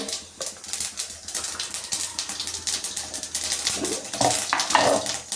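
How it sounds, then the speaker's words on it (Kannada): Mustard and cumin seeds crackle and pop in hot oil for sambar, a quick irregular patter of sharp snaps with a faint clink of a utensil, no talking. "ಚಿಟಪಟ ಅಂತ ಸಿಡಿತಾ ಇದೆ"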